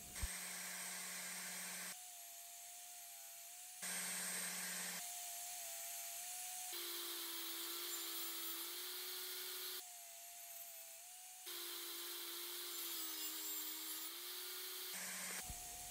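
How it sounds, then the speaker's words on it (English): Table saw or power saw ripping cypress pine and merbau fence picket offcuts into strips, a steady whining cut that starts and stops in several passes, each run holding a constant tone with no talking. "I begin by ripping down small offcuts to form multiple strips."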